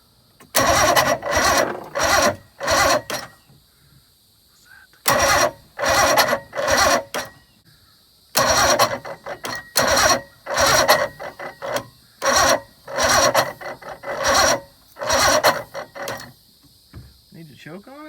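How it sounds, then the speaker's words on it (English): A bass boat outboard engine being cranked with the key, repeated bursts of rapid starter whirring in groups separated by short pauses, close and loud, the engine never catching. "And then we're gonna crank the key."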